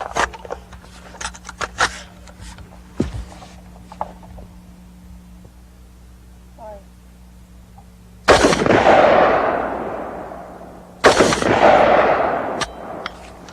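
.223 tracer rounds fired at a gas tank: two loud, sharp gunshots boom and echo out several seconds apart, preceded by quieter mechanical clicks and handling noises.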